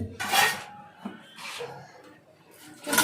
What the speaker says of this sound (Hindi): और प्रेशर कुकर भी धोना है